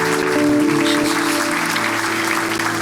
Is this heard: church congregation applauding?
yes